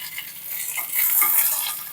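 Wet, freshly washed curry leaves splutter and crackle in hot oil, a dense close hiss with quick popping bursts that swells briefly midway.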